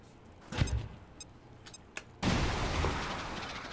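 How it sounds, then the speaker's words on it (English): A grenade launcher in XCOM 2 sends out a few faint clicks and thuds, then a grenade explosion erupts into a sustained, fairly loud roar of rumble and debris. "grenade launcher"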